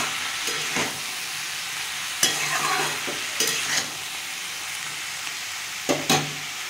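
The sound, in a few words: cumin powder being fried and stirred in a pan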